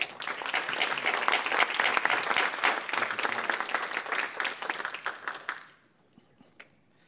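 An audience at a talk on First World War Eastern Front experience gives a warm round of applause lasting about six seconds, steady and full, then tapering off into near silence with a few stray claps.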